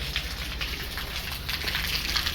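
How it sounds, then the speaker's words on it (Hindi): Outdoors, a stream of flowing water, not rain, rushes steadily and fairly close, an even broadband wash with no pauses and no voices. "तो निकलती जा रही है धारा पानी की।"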